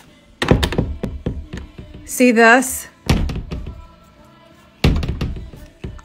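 A closet door slammed shut hard, giving several heavy, close thuds spread across a few seconds, with a brief squeal in between and a person speaking.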